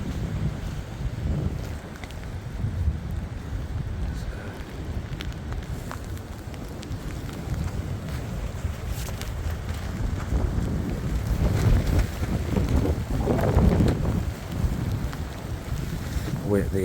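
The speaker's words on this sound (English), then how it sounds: "The rain's starting to pick up now, as well as the wind." Storm Eowyn at night brings strong wind buffeting the microphone among trees, with rain picking up; a loud, continuous low rumbling roar that surges in gusts.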